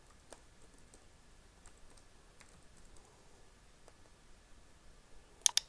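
Light, scattered taps on a computer keyboard while a title is typed, quiet and close, ending in a quick burst of sharper clicks.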